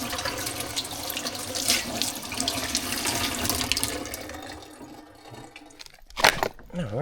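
Water gushes and splashes from a repaired, formerly collapsed 100-year-old well, a loud steady rush that thins out near the end, broken by a brief sharp splash or clunk.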